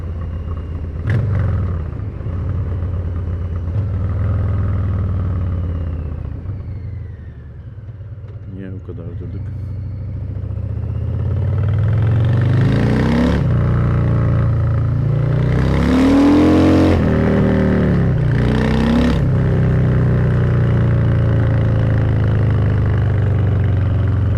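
Harley-Davidson Softail Heritage Classic 114 motorcycle idles at close range, then its exhaust rises into several loud revs with a deep rumbling roar, the engine noise continuous throughout the clip.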